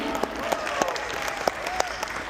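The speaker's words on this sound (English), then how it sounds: "A round of applause for them." An audience claps and cheers, dense applause with a few sharper individual claps standing out, moderately loud.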